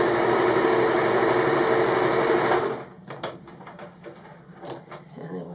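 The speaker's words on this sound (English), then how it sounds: "So I'll hold the thread down and stitch along a quarter of an inch in." A sewing machine stitches a quarter-inch seam while piecing fabric for an origami candle mat, running in a loud, dense, steady burst for almost three seconds before stopping, leaving faint handling noises.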